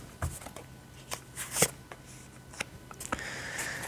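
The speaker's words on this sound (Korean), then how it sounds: "네 번째 조언 카드를 한 장 뽑도록 할게요" Tarot cards are shuffled and one is drawn, making quiet, close flicks, slides and soft snaps of card stock in an irregular rhythm.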